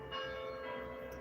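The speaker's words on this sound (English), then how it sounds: "We do get the bells as well." Church bell tolling in the distance, a single faint ringing strike that hangs briefly in the air outdoors.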